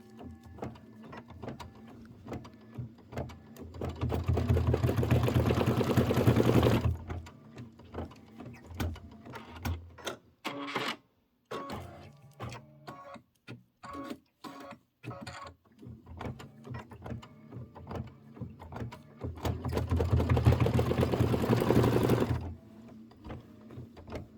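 An embroidery sewing machine stitches down a quilt topper, rapid mechanical whirring in long runs broken by a stretch of stop-start tapping and pauses, close up.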